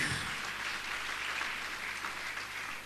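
A church congregation at a Sunday service claps together in a steady, dense burst of applause that holds evenly for a few seconds, with a low hum beneath.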